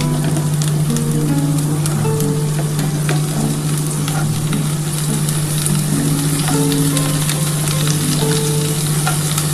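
Potato pieces added to papaya already frying in a pan, a loud continuous sizzle with stirring scrapes and a steady hum underneath, no talk.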